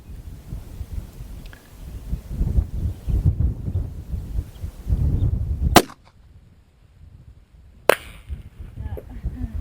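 A .223 Sako 85 rifle fires at cans over 1200 yards away: two sharp, loud cracks about two seconds apart over gusty wind noise and faint background murmur.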